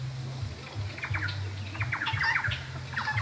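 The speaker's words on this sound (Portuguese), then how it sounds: "Tem dois pássaros que cantam ali" Birds, a brownish pair, sing together in short chirping bursts of quick repeated notes, moderately close, over a steady low background hum with no talking.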